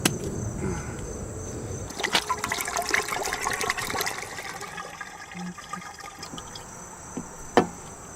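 Prestone DOT4 brake fluid pours from a bottle into a car's gas tank, a steady gurgling liquid trickle heard up close, ending with a couple of sharp plastic clicks.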